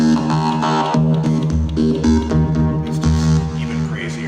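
Sampled special waveforms from a Roland SH-32 synthesizer play as pulsing, harmonically dense tones in a rhythmic sequence, loud and steady with shifting timbre.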